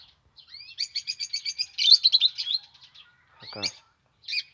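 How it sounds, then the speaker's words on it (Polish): A pair of cockatiels chirping up close in a quiet room, a rapid run of bright repeated tweets, then a short pause and a few sharper calls. "Drugim nowym nabytkiem są tutaj papugi nimfy."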